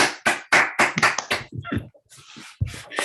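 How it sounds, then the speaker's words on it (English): Applause after an academic mathematics talk at an online seminar, a short burst of a few people clapping at close range, uneven and brief. "I think a round of applause is."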